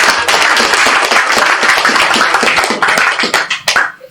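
Hands clap loudly and closely at a religious gathering, invoking the Saman dance from Aceh, then thin out into a few scattered final claps.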